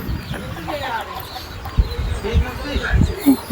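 A big country rooster wandering inside a house clucks in short, close bursts, with soft shuffling and low background noise between calls.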